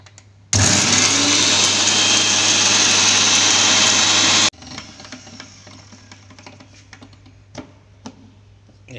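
A mixer grinder blitzes roasted spices for a Kerala chicken curry, roaring loudly and steadily for about four seconds before cutting off abruptly, followed by faint clicks and rattles.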